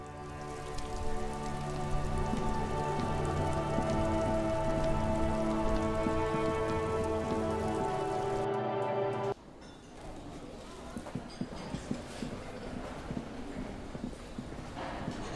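Steady heavy rain pours in the video game Disco Elysium, a dense continuous hiss that keeps on after a layer of ambient tones cuts out, with faint scattered drips on a hard surface; no talking.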